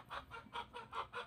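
A chicken clucks in a quick, even series of about six short clucks, faint and close, with no talking.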